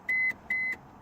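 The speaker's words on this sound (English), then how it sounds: "when you leave the lights on, it's got that beep" Lights-left-on warning chime in a 1993 Ford Fiesta XR2i 16V, two short, identical high electronic beeps evenly spaced, faint and clean over a quiet cabin background.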